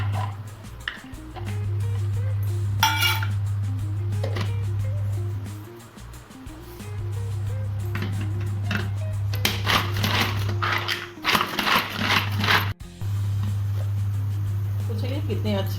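An electric chopper grinds ginger, garlic and onion in a home kitchen: a loud, steady motor hum runs in long pulses with brief pauses, then crunchy rattling bursts as the pieces break up.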